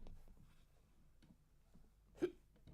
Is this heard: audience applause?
no